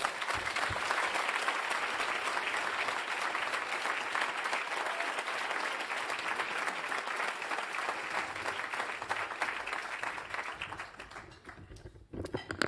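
An audience at a CRRA recycling conference applauds to welcome speaker Tom Steyer, a dense, sustained round of clapping that holds steady for about ten seconds and then tapers off into quiet.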